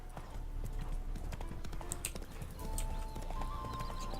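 Horse hooves clip-clop at a steady gallop on a dirt path in The Witcher 3, a continuous rhythmic beat under soft ambient game music, with no talking.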